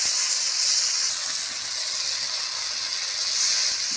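Spice paste hitting hot oil in a pan for a Bengali catla fish-head curry with potato and pointed gourd, giving a loud, steady, close hiss of sizzling that holds for the whole stretch with no talking.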